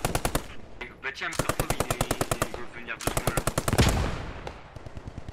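Rapid automatic machine-gun bursts from an AMG in a multiplayer shooter game, firing in several long, evenly spaced rattling strings with short gaps between them, loud and close, while someone talks briefly over the shooting.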